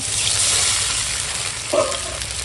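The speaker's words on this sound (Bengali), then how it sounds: "এখন দিয়ে দেব জল" Water poured into a pan of pumpkin and potato pieces frying in oil gives a steady broadband sizzle, with a brief louder burst and hiss near the end as the water hits the hot pan.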